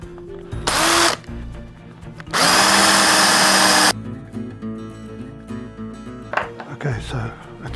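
A power tool trims the brass tube of a pen blank for penturning, with two loud whirring bursts of about half a second and a second and a half, then quieter handling clatter and a voice speaking in between.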